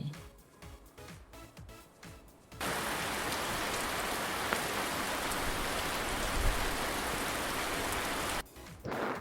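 Steady rain pours down in a dense hiss, starting suddenly after a few seconds of quieter sound and stopping just as abruptly near the end.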